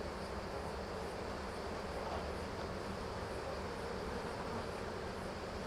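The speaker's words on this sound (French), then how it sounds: "on voit pas mal d'abeilles qui battent le rappel ici" A colony of black honeybees hums steadily at the hive, a dense continuous buzz of many wings, fairly close and even, with no talk over it.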